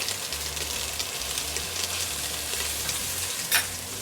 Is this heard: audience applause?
no